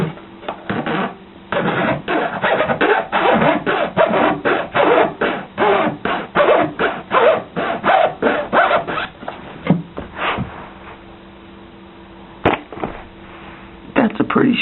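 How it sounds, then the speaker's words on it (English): Saw cutting a slot into a wooden dowel for a blowgun, rapid rhythmic rasping strokes that come close together, then thin out to a few scattered scrapes, with a voice talking over the sawing at times. "You want to slot the wooden dowel in the front."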